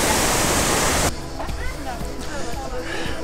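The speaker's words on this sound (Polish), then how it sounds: "gdzie ten wodospad po prostu tutaj spływa" Skradinski buk waterfall in Krka National Park, Croatia, rushing loudly as a dense roar that cuts off abruptly into quieter moving water with people talking.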